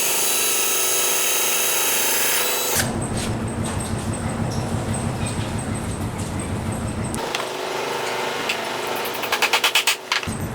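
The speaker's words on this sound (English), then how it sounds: "So I'm gonna finish pre-drilling holes for my nails." A power drill bores pilot holes in wood for nails, whirring in a few sustained runs with pauses between them and ending in short stuttering bursts.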